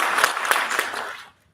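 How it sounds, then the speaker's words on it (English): Brief round of applause at a board meeting, a small group clapping closely for about a second before fading quickly to silence. "We can give a round of applause."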